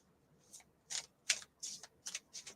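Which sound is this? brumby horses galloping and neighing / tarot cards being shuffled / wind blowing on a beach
tarot cards being shuffled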